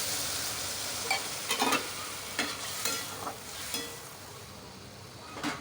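Papaya, fried prawns and water go into a sizzling pan, producing a soft continuous fry with several bursts of stirring and splashing spread through the clip, and no voices.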